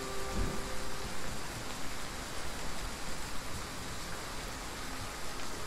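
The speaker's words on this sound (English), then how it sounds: "The rain does sound nice. It does have a nice sound to it." Steady rain in the open-world survival crafting game The Front, a constant dense hiss of falling drops with a low rumble near the start, continuous and even throughout, no voices.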